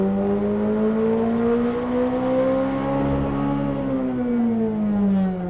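A McLaren 765LT engine revs under load on a dyno in hot 32-degree weather, a loud sustained tonal drone rising slowly in pitch then easing back, steady and close throughout with no talk.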